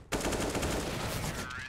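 Rapid automatic MP9 fire in a Counter-Strike match on Mirage, a dense continuous burst of close, loud shots that runs nearly two seconds without pause.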